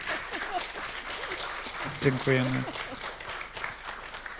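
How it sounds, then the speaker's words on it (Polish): Audience applause after a theatre discussion panel, a moderate hall-wide patter of clapping sustained throughout, with a voice speaking briefly over it midway. "Proszę o brawa."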